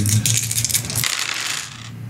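A lot of dice clatter and roll across a tabletop during a Dungeons & Dragons game, a loud busy rattle for about a second that settles into a fainter tumbling.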